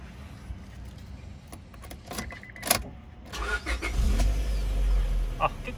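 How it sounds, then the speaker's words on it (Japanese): A Honda Civic Type R EK9 with Mugen air cleaner, exhaust manifold and muffler cranks briefly, then fires up and settles into a rumbling idle with a light rev, recorded from inside the car. "ちょっとエンジンかけてみましょう"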